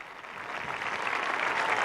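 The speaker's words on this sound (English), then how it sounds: "now applauding" Thousands of university students stand and applaud in a large hall at the Catholic University of Portugal, a dense, steady roar of clapping that grows slightly louder throughout.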